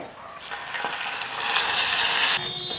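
Hot water added to hot browned caramel in a pan, a loud steady sizzle and crackle that swells for about two seconds and then cuts off abruptly, with no voices.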